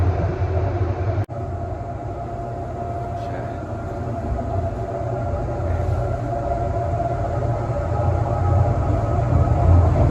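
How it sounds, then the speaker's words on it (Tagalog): Steady low rumble of a moving train interior, constant and loud, with a brief word spoken near the start. "Ito lang yung tsura ng loob ng tren."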